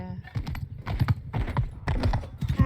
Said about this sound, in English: I hear horse, I hear something. Horse coming.